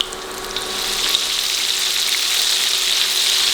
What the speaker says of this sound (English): the oil should be ready for us to drop these pieces in there